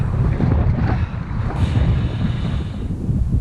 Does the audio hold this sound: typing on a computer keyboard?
no